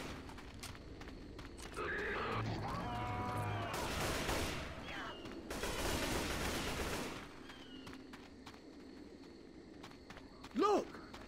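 Left 4 Dead 2 gameplay with bursts of rapid gunfire and sustained shooting amid the noise of a zombie fight, moderately loud, with shouted voices interjecting.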